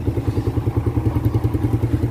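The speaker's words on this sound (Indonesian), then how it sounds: "Nih, mesinnya sudah hidup, suaranya dengerin ya, bedakan dengan sebelum kita rakit kemarin" A Yamaha Vega ZR motorcycle engine runs just after a heavy overhaul, with a loud, close, steady idle that pulses in a rapid, even rhythm.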